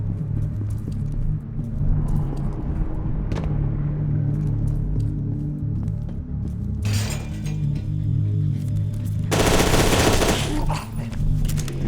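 Gunfire in the shooter FEAR 2, loud bursts and rattling automatic fire over a steady low game rumble, with a sharp crashing flurry near the end.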